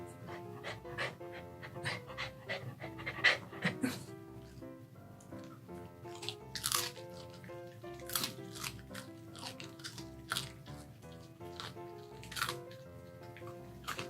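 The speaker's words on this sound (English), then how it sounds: "I think Teri likes crunchy tofu chips." A dog crunches on crisp tofu chips, with sharp, irregular bites scattered over soft panting and quiet music in the background.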